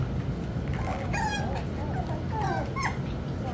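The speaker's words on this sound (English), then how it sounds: "Here I have Legacy and Rookie's puppies" Eight-week-old puppies whimpering, several thin high whines and yips at moderate distance over a steady background hum.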